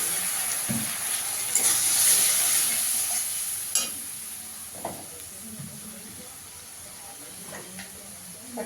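Spice masala of Kashmiri chilli, coriander and cumin powders with a splash of water being fried and stirred in a pan for a potato and taro curry, a steady hiss with scattered scraping taps and faint background talk.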